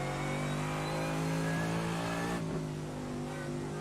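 Race car engine in iRacing at Bathurst, droning steadily and loudly throughout with a strong, sustained mid-pitched tone that shifts slightly partway through, with no talking.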